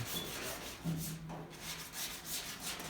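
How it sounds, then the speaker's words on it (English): Sanding on the bodywork of a Chevy pickup gives a continuous soft rubbing scrape, fairly quiet and steady, with a slight swell partway through. "I'm gonna start sanding behind here down."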